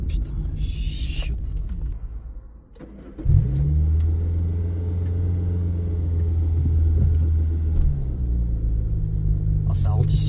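A Peugeot 205 engine cranks and fires back to life after stalling, settling into a steady low idle that rises slightly with throttle, close up, while people talk over it and keys jingle briefly.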